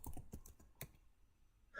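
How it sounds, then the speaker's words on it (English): Soft keystrokes on a computer keyboard tap in a quick uneven run, then pause before one more burst, faint and close with no talking. "Keep typing to find an emoji."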